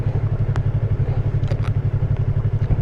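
Yamaha R3 motorcycle engine pulsing steadily and loudly up close while riding through city traffic, a continuous throbbing drone with a few faint clicks and rattles over it.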